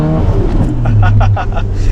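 Mazda RX-7 rotary engine idling and pulling at low revs, a steady loud drone inside the car with people talking over it.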